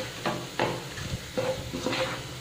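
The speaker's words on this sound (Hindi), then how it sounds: "इसमें हम डालेंगे हल्दी पाउडर, धनिया पाउडर और मिर्ची पाउडर, और इसे हम भून लेंगे।" Onions with turmeric, coriander and chili powder roast in a pan for a potato and tinda curry, heard as a soft sizzle broken by four or five quick stirring scrapes of a spoon against the pan.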